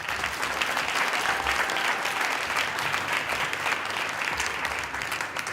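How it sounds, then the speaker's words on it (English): Dense, steady applause from an audience honoring speakers at a community talk event on homelessness, continuous and even for several seconds with no pauses. "Can we have another round of applause for our speakers?"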